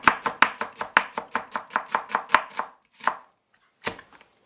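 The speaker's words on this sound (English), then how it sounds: "I'm also not slicing the onion too small." A knife slices through an onion on a board in a steady run of about fifteen crisp, close cuts, followed by a pause and a few more chops, with no voices.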